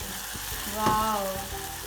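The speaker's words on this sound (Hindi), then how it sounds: "गरम गरम हांडी में हम मक्खन पहले डाल देंगे" Butter sizzling as it melts in a hot handi pot, a brief crackling fizz with a short tonal squeak midway, close and moderately loud.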